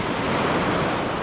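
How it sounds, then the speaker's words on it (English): Ocean surf surging up the beach at Pass-a-Grille, a steady loud wash of breaking waves with wind buffeting the microphone throughout, no voices. "waves are still coming up really high and soaking me"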